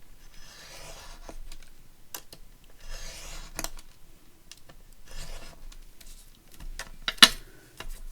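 Paper being cut for a handmade accordion book, with a series of soft scissor snips and paper rustles spread over several seconds and one sharper, louder snip near the end, close up and with no talking.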